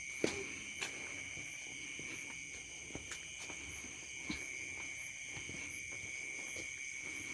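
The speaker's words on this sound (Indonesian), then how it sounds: "Tuh, jangkrik ini." Crickets chirp at night by dark rice fields in a constant high, shrill drone, with faint scattered clicks and rustles and no voices.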